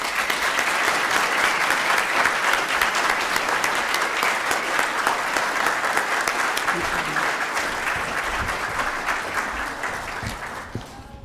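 Audience applause at the Oregon Stater Awards ceremony, a loud sustained wave of clapping from a large crowd that holds steady for about ten seconds before tapering off.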